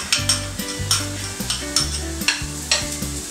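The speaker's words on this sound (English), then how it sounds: "So now I'm going to add the onions to the clarified butter." Onions sautéing in hot clarified butter, a steady sizzle broken by repeated scraping strokes of a spoon stirring the pan, close and fairly loud with no voices.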